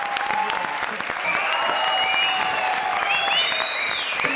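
Studio audience applauding loudly and steadily on a comedy show set, a dense wash of clapping with some cheers running throughout without a break.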